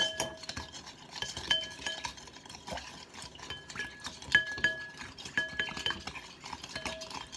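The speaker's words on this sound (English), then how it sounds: "I'm just going to take this and just kind of stir things around a bit." A utensil stirs food in a pot, scraping and clinking against the metal in an irregular rhythm, close and moderately loud, with no talking.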